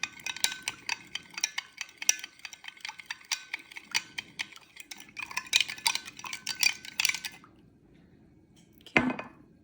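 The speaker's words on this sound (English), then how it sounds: "stir that together" A spoon stirs iced coffee ingredients in a glass, quick clinking taps against the sides over several seconds, close and fairly quiet, ending in a brief pause and one last louder clink.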